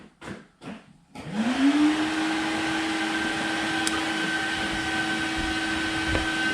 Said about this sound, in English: the compressor will probably cut in and I'm going to put the vacuum on